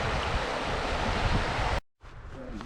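Deep, clear river water in Scotland bubbling and swirling, a loud close wash of churning flow that cuts out abruptly and then resumes more quietly.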